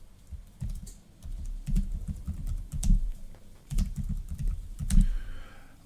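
Brisk typing on a computer keyboard while changing the default root password on an Antsle server, a steady run of close, crisp key clicks with short pauses and a few heavier strokes.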